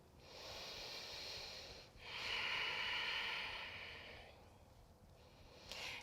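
Deep breathing during a yoga leg stretch: two long, airy breaths, each several seconds, drawn in and let out close to the microphone and fairly soft, followed by a brief quieter puff, with no talking.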